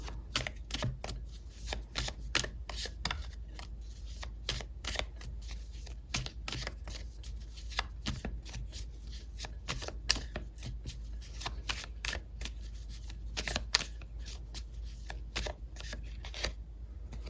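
Tarot cards shuffled continuously for a reading, a steady close run of soft riffling slaps and flicks with no one speaking.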